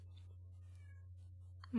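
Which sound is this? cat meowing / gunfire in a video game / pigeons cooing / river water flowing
cat meowing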